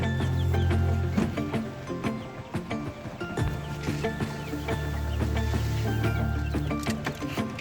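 Chickens in a coop, among them an older Rhode Island Red and newly added brown hens, cluck and chatter in short repeated calls over a steady background hum, fairly close.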